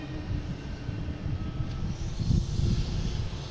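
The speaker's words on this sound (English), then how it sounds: "Aer Lingus. A330 coming in from Shannon, coming from Dublin, sorry." Aer Lingus Airbus A330 arriving from Dublin at Boston Logan, a steady broad jet roar with low rumble that swells slightly near the end, heard from a distance without talk.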